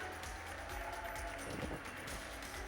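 An audience applauds to welcome a speaker onto the stage at an entrepreneurship forum in Sharjah. The clapping is a soft, even patter that sounds distant and holds steady throughout.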